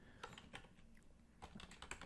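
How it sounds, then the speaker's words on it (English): Keys on a computer keyboard tap out a short burst of typing, a handful of quiet, crisp clicks spaced irregularly, close and soft with no talking. "now I'm going to type in gasoline heart"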